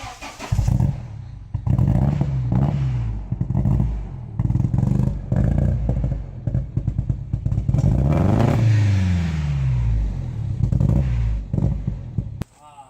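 A Nissan 240SX fitted with a Spec D 3-inch exhaust ending in a 4-inch tip cranks and catches, then revs in loud repeated bursts close by. People talk between and over the revs.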